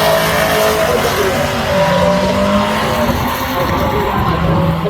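A race car at Sick Week 2022 in Gainesville tears down the drag strip at about 144 mph, its engine a loud, continuous roar for the whole stretch with faint voices beneath it.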